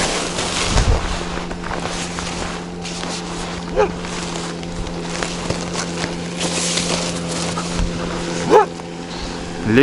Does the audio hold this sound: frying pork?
no